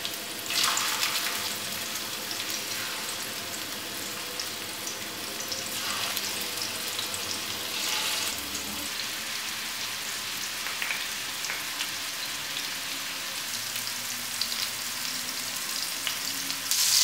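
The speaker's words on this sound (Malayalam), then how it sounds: "നമുക്കിനി മീനിട്ട് ഫ്രൈ ചെയ്തെടുക്കാം." Fish frying in hot coconut oil in a pan, a loud, steady crackling sizzle that runs throughout with occasional sharper pops and spatters.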